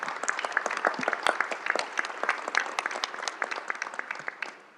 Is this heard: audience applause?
yes